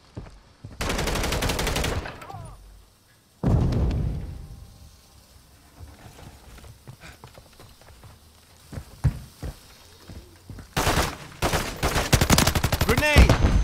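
Gunfire in Call of Duty Modern Warfare III comes in loud close bursts of automatic fire, split by quieter stretches of scattered single shots and movement before a final heavy volley.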